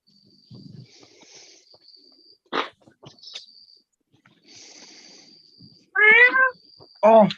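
A cat gives loud, strained meows and yowls after its tail is stepped on, with two sharp cries near the end over a quiet room background.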